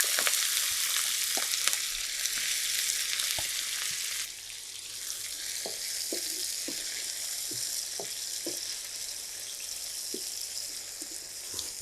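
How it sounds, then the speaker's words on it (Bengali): Onions frying in oil and ghee, a steady hiss and sizzle with occasional stirring clinks and scrapes, close up and without talk. "আর এখানে বেশ কিছুটা পেঁয়াজ দিয়ে দিচ্ছি।"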